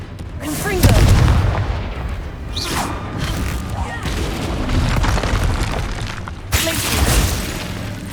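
Deep, heavy booms from the Confringo fire spell in Hogwarts Legacy, several loud blasts with rumbling tails spread across the moment, mixed with game effects and a voice talking.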